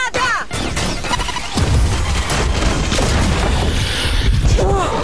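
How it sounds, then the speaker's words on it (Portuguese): A grenade explosion in the Valorant video game: a loud, dense boom and crash that fills the clip, heavy and close, with game effects layered over it. "Granada!"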